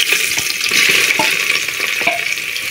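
Finely chopped onions fry in hot oil with bay leaves and a cinnamon stick for a mutton biryani, giving a steady close sizzle with a few stirring scrapes, and no talk.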